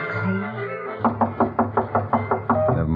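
A series of about nine quick, evenly spaced knocks rap on a door during an old-time radio drama, heard over a sustained musical tone and fairly loud and close.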